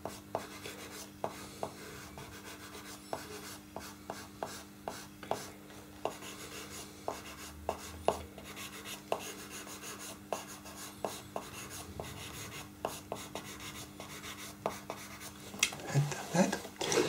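A pencil sketching hair on paper makes quiet, repeated short scratchy strokes in an uneven rhythm, close and soft against a faint background hum, with a brief rustle near the end.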